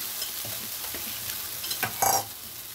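A pot of tangy buttermilk curry (mor kuzhambu) boils on the stove, a steady, soft bubbling hiss, with a couple of brief scraping stirs near the end.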